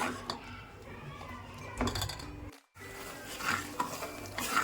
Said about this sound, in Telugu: ఇది ఇలా కలుపుతూ ఉండాలన్నమాట మధ్య మధ్యలో